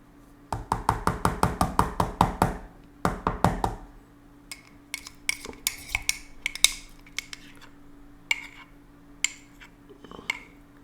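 A spoon scraping and tapping against a container while scooping virgin coconut oil, with a quick run of sharp regular clicks early on, then scattered lighter knocks and scrapes, close and alone.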